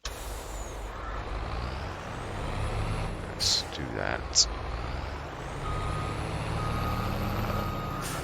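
A lorry in the Farming Simulator 22 video game reverses with a steady run of reversing beeps over a low engine drone, with brief hisses like air brakes midway and someone talking briefly.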